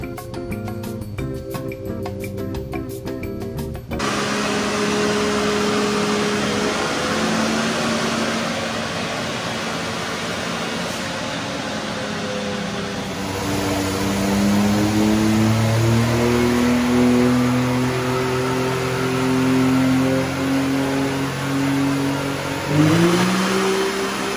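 A 2021 Can-Am X3 RR side-by-side engine drones steadily at high revs during an ECU tuning run, its pitch climbing and holding, loud and close, after a brief mechanical rattle at the start and a dip near the end.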